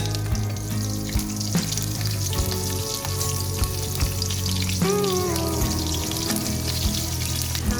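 Nigella seeds and two slit green chillies sizzle in hot oil left from frying fish for a Bengali fish curry. The frying hiss is steady and loud, with a small splash partway through.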